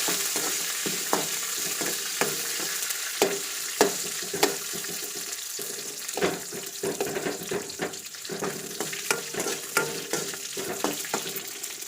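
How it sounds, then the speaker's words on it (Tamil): Tamarind, green chilies and garlic sauté in a pan for a spicy hotel-style kara chutney: a steady soft sizzle with repeated irregular spatula scrapes and taps close by, and no voices. "புளி பச்சை மிளகாய் பூண்டு எல்லாத்தையும் போட்டு நல்லா வதக்கிக்கணும்"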